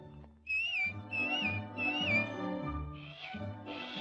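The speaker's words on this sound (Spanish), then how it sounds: "Dame un silbidito." A person whistles a short tune of three rising and falling phrases, fairly close and clear, followed by two breathier whistled notes.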